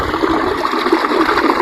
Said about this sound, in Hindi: पानी को बांधकर एक नाली के रूप में लाया गया है लकड़ी के लट्ठों का प्रयोग करके